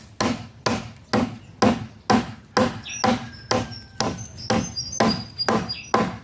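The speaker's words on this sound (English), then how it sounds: "open this timber over here. It's like it's breaking into two pieces." Timber being split open into two pieces with a series of about eleven sharp, evenly spaced impacts, each a hard woody crack or thwack, loud and close with no talk.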